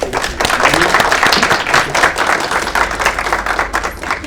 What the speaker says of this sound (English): please give yourselves a round of applause for making it through